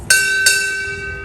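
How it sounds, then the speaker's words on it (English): Two sharp, ringing strikes of a ship's bell at a United States Navy retirement ceremony, the second following about a third of a second after the first, each leaving a long metallic decay. "Time orderly, strike 2 bells."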